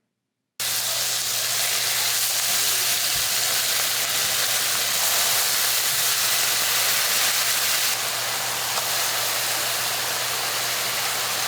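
Meat sizzles steadily in a nonstick Caraway sauté pan, a loud, continuous broadband frying hiss that carries on without a break.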